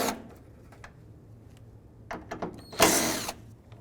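A hand ratchet loosening 7mm bolts at the top of a headlight on a 2005-2009 Chevy Equinox, a few quiet clicking bursts building to a louder, closer rattle near the end.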